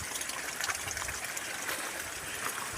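Water overflowing from an open canal after a landslide, a continuous rushing, gushing stream that holds steady throughout and sounds fairly close.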